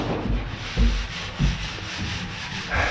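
Sandpaper rasps back and forth over a surface during renovation work, in uneven strokes, with a few heavier scrubbing passes standing out, close by and without talking.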